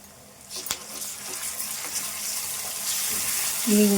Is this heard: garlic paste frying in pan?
yes